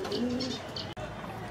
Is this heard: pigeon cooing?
yes